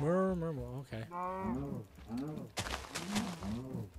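A low, drawn-out Minecraft cow moo repeats several times with a game-like quality, and a person talks briefly over it.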